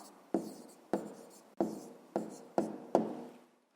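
A pen or pencil writes an answer on paper in six short, evenly spaced strokes, each a crisp scratch that fades quickly, heard close up with no talk.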